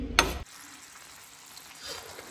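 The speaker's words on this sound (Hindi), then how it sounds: "ये यहाँ पे मेरी ग्रेवी हो रही है तैयार। इसको जो है ना थोड़ा सा उबाल आ रहा है" Egg masala curry gravy bubbles in a pan, a short burst of loud sizzling giving way to a soft, steady simmering hiss.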